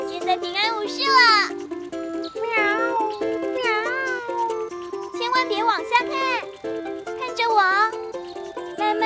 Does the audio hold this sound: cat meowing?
yes